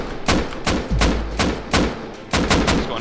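Repeated bursts of AK rifle fire in the survival video game Rust, about seven sharp, loud shots in irregular clusters with short gaps between them.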